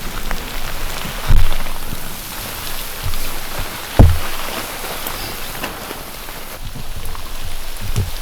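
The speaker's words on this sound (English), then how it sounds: "I've never seen hail that big in my life anywhere." Large hail pelting a tarp during a storm on a canoe trip in Quetico Provincial Park, a dense, steady drumming patter with a couple of louder close thumps from heavier chunks.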